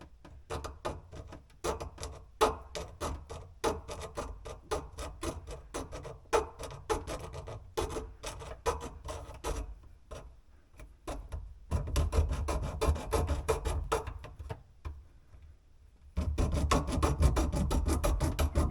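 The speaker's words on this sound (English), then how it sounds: "because this plastic's so hard, I'm going to use a hacksaw blade" Hacksaw blade cutting through hard plastic pipe while replacing a shut-off valve under a bathroom sink, a steady rasping of quick back-and-forth strokes, close and alone, growing louder and coarser near the end.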